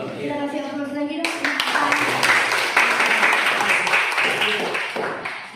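A seated audience at a press competency training session in Indonesia breaks into sustained clapping after a short spoken line, the dense applause rising quickly and holding steady to the end, indoors and close.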